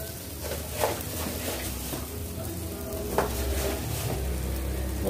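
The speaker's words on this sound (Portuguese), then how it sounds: "Para refogar o arroz, fazer um arrozinho branco mesmo, refogado rapidinho" Rice sautéing with garlic and salt in a pan, a steady close sizzle with occasional scraping stirs and utensil clinks against the pan.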